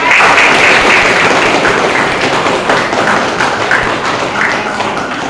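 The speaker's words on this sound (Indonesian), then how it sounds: "Tepuk untuk anak soleh" Group of children clapping together in a classroom, a dense, loud burst of hand claps with tapping and thuds, sustained and steady throughout with no talking.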